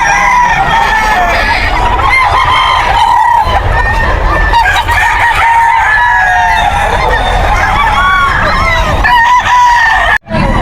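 An eight-month-old stag, a young rooster at the Bocaue pet market, crows loudly and repeatedly at close range, with clucking fowl and busy market clamor around it and a brief cutout near the end.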